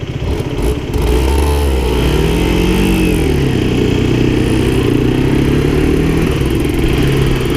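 A motorcycle engine drones steadily at close range, its pitch rising and falling slightly as the bike rides along, with no voices.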